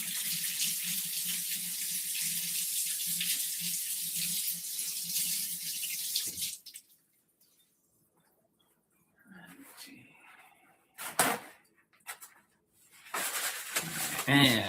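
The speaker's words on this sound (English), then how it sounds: "so I'm gonna rinse my hand off" Tap water pours steadily into a sink for about six seconds while hands are rinsed, then cuts off abruptly, leaving quiet with a few faint clinks and knocks.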